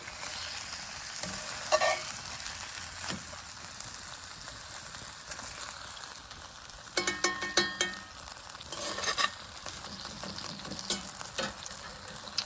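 Pork chops and green beans cooking in a pan on a camp stove during a winter camping trip, a soft steady sizzle with short bursts of louder crackling and stirring scrapes, no talking.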